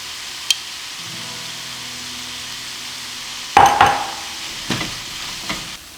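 Cabbage and shiitake stir-fried without oil with vegan oyster sauce: after a quiet start, a sudden sizzling burst with scraping stirs in the pan, followed by a few softer stirring scrapes.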